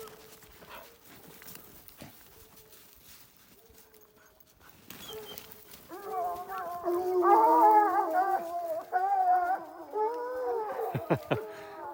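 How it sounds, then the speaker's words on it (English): Hunting dogs on a mountain lion hunt howl and bay in a loud, overlapping chorus after a quieter start, with a brief voice and scattered rustling beneath. "Look at these dogs work."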